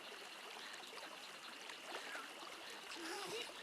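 Wading and crouching in water in the video game 7 Days to Die, soft trickling and light splashes under faint ambient noise, with a voice speaking quietly over it.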